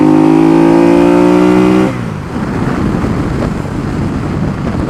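An Aprilia Caponord 1200 Rally motorcycle engine revs hard in third gear, its pitch climbing steadily for about two seconds, then gives way to a loud, steady rush of wind.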